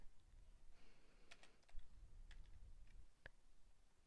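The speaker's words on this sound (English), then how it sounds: "I'll just start typing in 515" Quiet computer keyboard typing nearby: a handful of sharp key clicks at an uneven pace against a soft background hum, with no talking.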